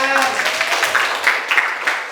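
Applause in a classroom after a student presentation, a steady dense patter of many hands clapping with voices mixed in.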